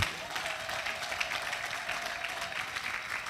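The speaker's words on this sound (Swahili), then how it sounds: "Mpigie Yesu makofi vizuri." Continuous clapping from a church congregation applauding Jesus during preaching on prayer, many hands overlapping in a dense, steady patter, heard from a moderate distance with no voices over it.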